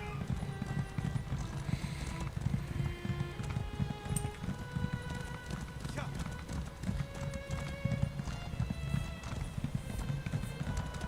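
Hooves of a horse ridden in a video game clop in a quick, rhythmic gallop beneath game music, with a voice talking over them throughout.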